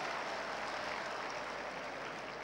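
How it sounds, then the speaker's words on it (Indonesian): Steady, dense applause fills a large lecture hall as an audience claps for tax and customs officers during a public lecture by Indonesia's finance minister at a university, continuous and even throughout without any talking. "Ya boleh tepuk tangan untuk pajak dan bea cukai."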